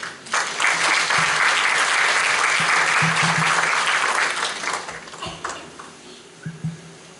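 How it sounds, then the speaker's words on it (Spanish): An audience at an accounting update conference applauds to welcome a speaker, loud sustained clapping that swells then thins out into a few scattered claps and shuffles toward the end. "Recibamos con un aplauso al magíster Mario Becanuco."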